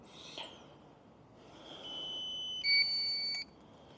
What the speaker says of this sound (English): Ignore my low battery noise